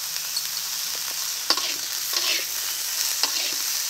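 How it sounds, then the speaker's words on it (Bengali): Eggplant frying with lightly fried onion, salt and turmeric in a pan, a bright hissing sizzle broken by several spatula scrapes and taps as it is stirred, near and steady, no talking. "এখন বেগুনটাকেও ভেজে নেব।"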